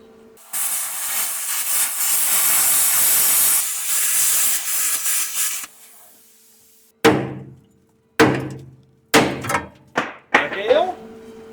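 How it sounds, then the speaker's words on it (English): A cutting torch roars in a loud, steady hissing blast for several seconds while rivets are cut on a Dodge Power Wagon frame, followed by a series of sharp metallic hammer blows and clanks. "let's cut the rivets, not the brake line."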